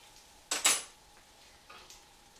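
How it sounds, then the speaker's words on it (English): A utensil scrapes pumpkin chunks from the sides of a pot into custard, giving a sharp double scrape up close followed by fainter scraping, against a quiet background. "You just scrape some pumpkin up into the custard."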